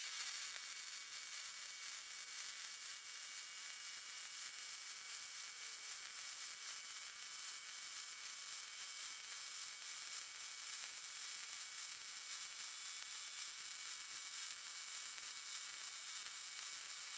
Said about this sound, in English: That's my my sad attempt at a bit of uphill welding.